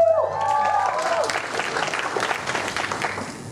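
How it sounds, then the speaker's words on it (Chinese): An audience claps in a sustained burst of applause at a live music show for a radio station, loud at first, then easing slightly, with a few tonal notes at the start. "掌声欢迎。"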